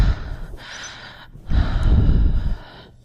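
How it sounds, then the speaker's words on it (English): Heavy breathing, close and loud, in two long drawn breaths with a short gap between them. The second breath is stronger and ragged, like a panicked gasp on waking from a nightmare. "My breath was heavy."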